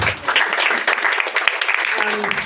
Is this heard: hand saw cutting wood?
no